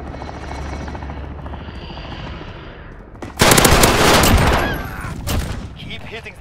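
Helicopter drawing closer through heavy gunfire in the Call of Duty: Modern Warfare video game; a steady rotor drone gives way to loud, dense bursts of machine-gun fire near the end.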